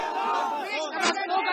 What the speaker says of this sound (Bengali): স্লোগান দিচ্ছেন